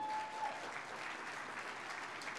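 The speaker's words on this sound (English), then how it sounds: "If we could give them a round of applause" Audience applause at a national convention, a steady wash of many hands clapping that fills the room evenly and stays fairly distant and moderate in level throughout, with no voices rising above it.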